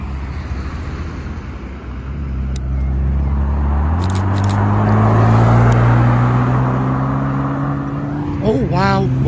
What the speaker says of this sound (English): Definitely, sounds like a McLaren.